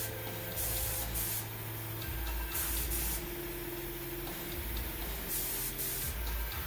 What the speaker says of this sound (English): I can also get all the angles and get lacquer into hard to reach spaces.